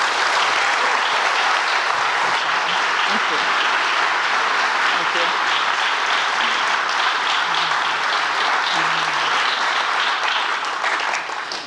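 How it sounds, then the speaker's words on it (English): A conference audience applauds a panel of company speakers in steady, dense clapping that fills the whole stretch, with a voice briefly saying thanks over it. "Please give our panel a round of applause."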